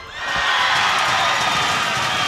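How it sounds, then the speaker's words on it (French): At a women's tchoukball final between Italy and Switzerland, the crowd erupts in loud, sustained cheering and applause that swells quickly and holds steady, filling the arena. "On voit tout le public qui est derrière, qui applaudit les défenses, qui applaudit les points"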